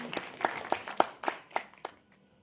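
A small group claps in a loose, uneven rhythm, seven or eight close, distinct hand claps over about two seconds that thin out and stop, with no speech.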